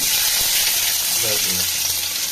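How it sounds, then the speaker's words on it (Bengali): Garlic sizzles in hot mustard oil in a pan, a steady, close frying hiss throughout with a faint voice briefly underneath. "সর্ষের তেল দিলাম আর এবার রসুনটা দেবো"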